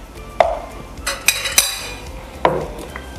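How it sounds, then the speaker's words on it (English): A metal spoon stirs minestrone soup with tomato puree in a pot, giving a few sharp clinks and scrapes against the pot's side at irregular moments over a quiet background. "stir it up."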